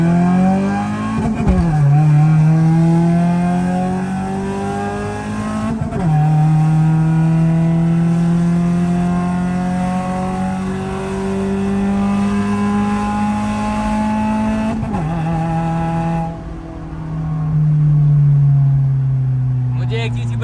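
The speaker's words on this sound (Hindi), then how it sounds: "आवाज अभी भी ऐसे लग रही है जैसे स्ट्रेट पाइप है" A converted GLI car with a loud, straight-pipe-like exhaust revs repeatedly, each rise climbing into a raw, droning roar before dropping back, with sharp blips between pulls.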